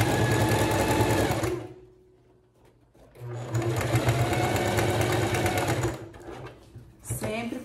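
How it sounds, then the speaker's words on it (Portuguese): A sewing machine stitches the seam of a cushion cover in two loud, close bursts of rapid mechanical whirring, broken by a short pause and followed by a brief final run. "E aqui a gente chega e costura até o final."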